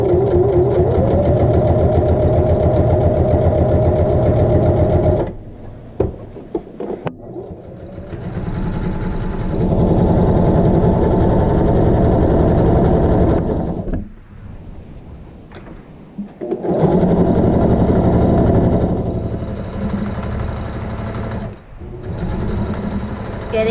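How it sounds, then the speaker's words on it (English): A sewing machine runs an edge stitch along a fabric hem in long steady bursts of motor whir, stopping briefly twice between runs, loud and close with no talking. "let's go ahead and sew our edge stitch to the other side"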